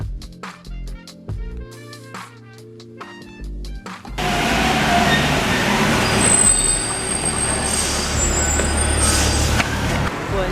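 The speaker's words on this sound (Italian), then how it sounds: "Abbiamo già preso la metro, siamo scese a Opéra, abbiamo preso la linea 8" A Paris metro train on line 8: a burst of music gives way to loud, sustained rumbling and metallic wheel squeal close by, with high screeching tones rising and falling.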